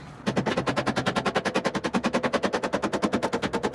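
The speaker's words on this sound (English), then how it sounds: "All right, whole lot more pounding." Rapid, steady hammer blows drive a hyfax slider onto a Ski-Doo R-Motion snowmobile rail, about ten sharp, close knocks per second after a brief quiet start.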